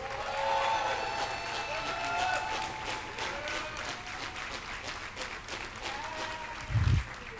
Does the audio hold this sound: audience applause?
yes